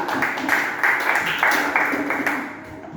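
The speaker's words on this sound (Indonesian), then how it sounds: "Tepuk tangan." Brief rhythmic applause from a class of students, a few quick patterned bursts of clapping close by that taper off after about two and a half seconds.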